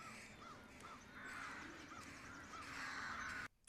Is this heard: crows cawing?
yes